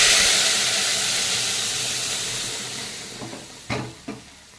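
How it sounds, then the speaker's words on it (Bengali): Dal hits a hot tempering with a loud steamy hiss that gradually fades, followed by a few soft bubbling pops and knocks toward the end, close by and without talking. "এখন আমি ডালটাকে কিন্তু এর ভিতরে ঢেলে দেবো।"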